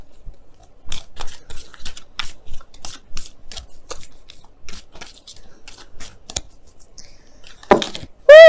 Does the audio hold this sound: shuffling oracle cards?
yes